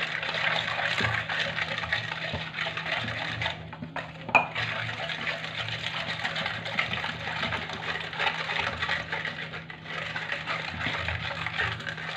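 Milk is poured into a dessert mixture in a bowl, making a steady liquid gush close by, with a faint clink of utensils and no talk.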